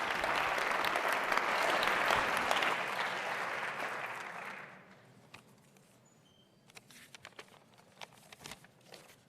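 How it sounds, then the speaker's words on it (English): Audience at a university event applauds as a professor comes on stage, a dense, loud burst of clapping that fades after about five seconds into scattered claps and quiet room noise. "You can give him a hand of applause."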